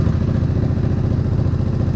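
The engine of a Grizzly, being stripped for its motor, runs loud and close with a steady, rapid clattering throb and no voices.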